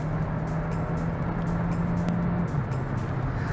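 A 2023 Kia Sportage Hybrid pulls onto the highway, its engine droning steadily beneath broadband road and wind rush inside the cabin, with no talk.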